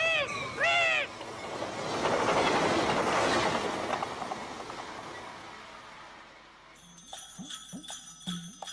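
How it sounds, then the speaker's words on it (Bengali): A cartoon train rumbles past with a building clickety-clack that swells and fades, framed by brief whistle-like tones at the start and a few clanking rhythmic hits at the end. "ইস, ট্রেন আইতাছে,"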